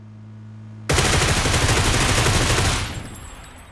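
Rapid automatic gunfire from a gun in PUBG, a loud, continuous burst of shots lasting about two seconds after a brief hum, then trailing off.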